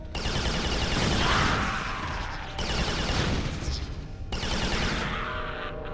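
Gunfire erupts in the video game Resistance in three loud, dense bursts, each a rough rattling blast that cuts off abruptly before the next begins.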